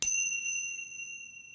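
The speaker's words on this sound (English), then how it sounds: "So I'll first ring the bell for us to be mindful of this wonderful gift that we have together." Single strike of a mindfulness bell at a Sunday service, a clear bright ding with a sustained ringing tone that slowly fades, heard alone.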